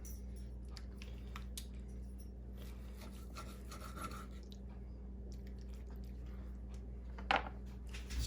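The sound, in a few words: knife cutting into griddle-grilled steak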